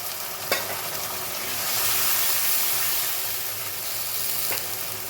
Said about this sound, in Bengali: অল্প করে জল দেবো একদম অল্প করে একটু কষিয়ে নেবো ভালো করে